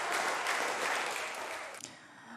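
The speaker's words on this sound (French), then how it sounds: "un discours largement applaudi par une majorité qui se veut unie contre vents et marées" Applause from a political assembly greeting a speech on a socially focused budget, a dense wash of clapping that holds steady, then thins and fades away near the end.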